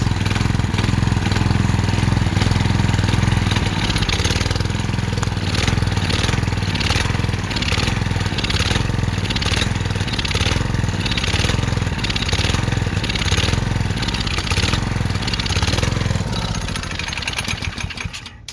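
A Honda GC160 go-kart engine runs on starter fluid, a loud, steady, rough small-engine drone with a pulsing beat that holds throughout before tapering off at the very end.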